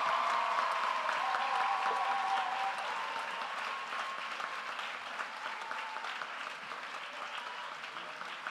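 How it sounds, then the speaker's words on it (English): Sustained audience applause for the 2019 graduating class at a community college graduation ceremony in a large hall, dense steady clapping with cheers and whoops early on, slowly easing over eight seconds. "a rousing round of applause for the 2019"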